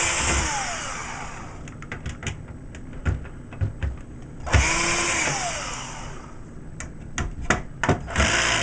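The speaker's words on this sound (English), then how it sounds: "Go ahead and remove those screws." A powered screwdriver whirs in short bursts as screws come out of a PS3 console casing, with small clicks and taps of parts being handled between runs, close and fairly quiet.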